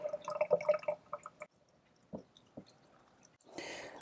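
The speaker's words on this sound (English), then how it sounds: "Watering it in kind of helps the wicking process start too." Water drips and then trickles into the soil of a freshly transplanted pepper seedling, a few faint isolated drops followed by a short, soft pour near the end, with no talking.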